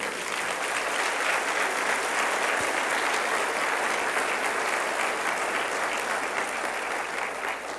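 Sustained, dense applause from a sizable church congregation, steady and loud for several seconds with no one speaking.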